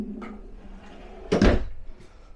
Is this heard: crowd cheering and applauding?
no